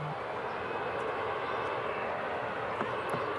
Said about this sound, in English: ATR, like we just seen, is probably the loudest plane we'll see.